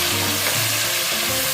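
A big batch of chopped onion fries hard in a pan for chicken roast, giving a loud, even sizzle with stirring scrapes, over a low musical tone in the background.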